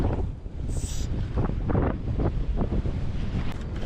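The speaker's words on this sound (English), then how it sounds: "it's just the wind." Wind buffets the microphone on the coast at Arbroath during stormy night cod fishing, a loud continuous low rumble with gusting surges throughout.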